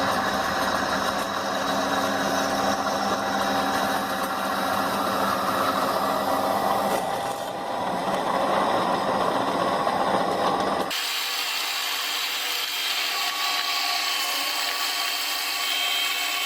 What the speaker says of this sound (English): We're going to drill a hole here and then 2 holes here and here